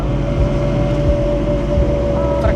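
A 1967 Ford Mustang engine idles with a steady hum, a persistent whine from a fuel pump running over the low engine rumble, close and constant.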